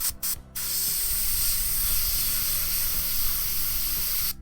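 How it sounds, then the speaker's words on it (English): Airbrush spraying paint onto an ogre miniature, a couple of brief bursts and then a long, steady, close hiss of air with faint mechanical clicking underneath, no voices. "so therefore I have to airbrush from above"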